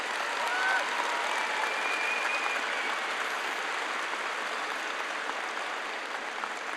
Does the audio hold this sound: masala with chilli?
no